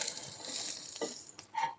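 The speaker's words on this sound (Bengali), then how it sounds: "আমি এভাবে সব রুটিগুলো ভেজে নিচ্ছি।" Flatbread (roti) sizzling in oil in a karahi, with a couple of short scraping knocks as the bread is turned over, close and fairly quiet with no voices.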